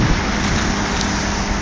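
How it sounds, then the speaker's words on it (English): Heavy rain pours down in a steady, loud, dense hiss on a cold day, continuous and unbroken with no voices. "Look how much it's raining."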